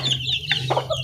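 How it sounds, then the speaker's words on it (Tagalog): Pet chickens cluck in a steady series of short, close calls, with a low constant hum running beneath them. "alagang manok."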